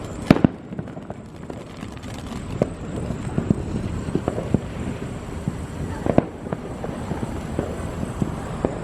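Fireworks go off outdoors on a patio. Scattered sharp pops and crackles, some near and loud, others fainter, sound over a steady hiss of background noise.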